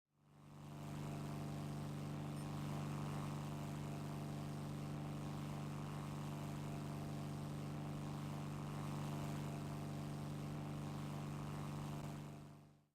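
A B-17 bomber's engines in the War Thunder video game drone steadily and loudly throughout, a continuous, even hum with no voices.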